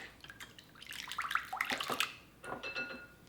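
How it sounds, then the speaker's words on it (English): Brownie batter with vanilla extract being whisked in a bowl, giving quiet, irregular clinking and sloshing strokes that come in two bursts with a short pause between. "And now I'm going to give this a whisk."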